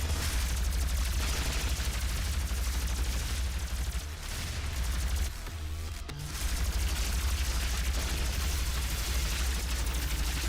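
Rapid, sustained energy-weapon fire from a plasma rifle in DOOM (2016), a dense loud barrage of shots running almost continuously, with a brief lull midway before the firing resumes.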